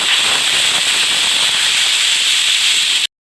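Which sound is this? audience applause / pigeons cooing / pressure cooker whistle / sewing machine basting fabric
pressure cooker whistle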